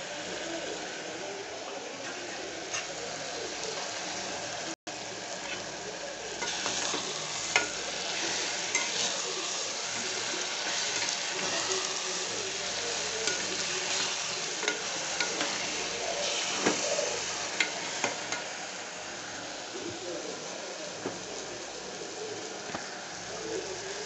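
Vegetables with mint sizzle steadily in a pan for veg pulao, a continuous soft frying hiss with occasional stirring clicks and scrapes, moderately close.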